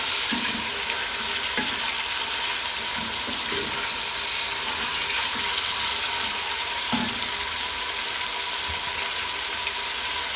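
Chicken fries in a pan with a steady broadband sizzle and occasional stirring knocks, a continuous moderately loud crackle heard close up.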